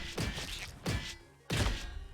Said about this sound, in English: That actually was the bush that was exploding.